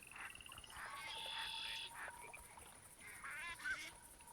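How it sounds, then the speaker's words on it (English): Gadwall ducks in theHunter Classic hunting game give several nasal, quacking calls that repeat in short bursts over a quiet outdoor background. "Listen to this. I hear gadwalls."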